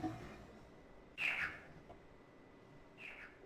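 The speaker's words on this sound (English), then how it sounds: "Sounds like birds." Two short, bright chirping calls from bird monkeys in the video game Riven, the first around mid-clip and a softer second near the end, over a faint low background hum.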